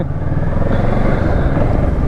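A motorcycle engine drones loudly and steadily while riding, heard through a GoPro rig with broadband road and wind noise throughout.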